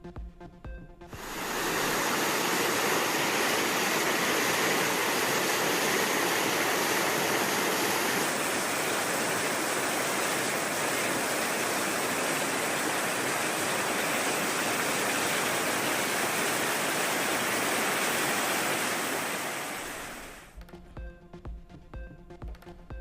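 Flooded rivers rushing after heavy rain in Tamil Nadu, a dense continuous roar of churning water, loud and steady for about twenty seconds before cutting off.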